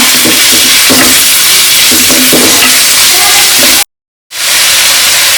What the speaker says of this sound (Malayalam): ഇതൊന്ന് വഴറ്റിയെടുക്കാം. നല്ല ബ്രൗൺ കളർ ആവുന്ന വരെ വഴറ്റാം.